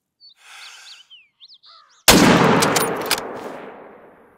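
A single hunting rifle shot rings out in theHunter: Call of the Wild on Silver Ridge Peaks, with a sharp loud crack and a long rolling echo. Birds chirp faintly beforehand.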